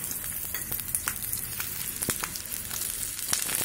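Tempering spices (popu) crackle and sizzle in hot oil for a tomato coconut chutney, a steady close fizz broken by sharp pops, with no talking.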